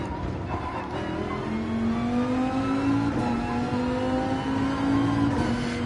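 Racing-game car engine revving steadily, a close, loud whine rising in pitch and holding with small fluctuations, heard alone without voices.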